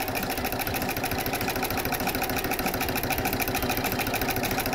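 A Baby Lock Brilliant sewing machine with a walking foot stitches a row of channel quilting, giving a fast, steady mechanical whir with rapid needle ticking, close and continuous with no voices.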